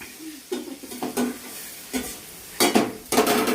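Turmeric and chilli powder are stirred into food in a pan, with several short scraping stirs in irregular bursts over a faint sizzle.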